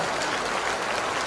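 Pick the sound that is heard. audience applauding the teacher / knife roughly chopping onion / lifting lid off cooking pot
audience applauding the teacher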